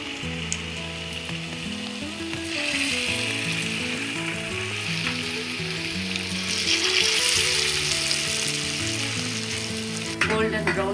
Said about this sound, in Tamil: எண்ணெய் ஊற்றி சூடான பிறகு இதெல்லாமே எடுத்து டீப் ஃப்ரை பண்ணிடலாம்.